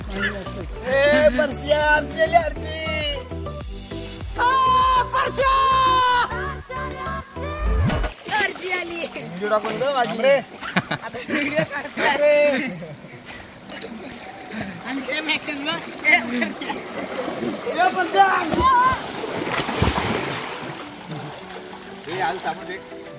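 Children splash around in river water with lively shouts and chatter, a voice talking over the ongoing splashing outdoors.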